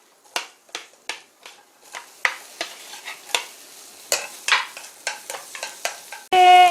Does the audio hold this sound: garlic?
yes